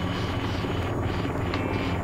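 A steady, loud rotor and turbine roar from an AH-94 attack helicopter in the VR flight game VTOL VR, continuous and close with no talk over it.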